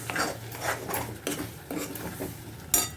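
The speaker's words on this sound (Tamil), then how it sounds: "அதை சேர்த்துட்டு வதக்கி விட்டுக்கிறேன்." A utensil scrapes and stirs ground fennel masala against a pan in repeated strokes, with soft rasping between them and no voices.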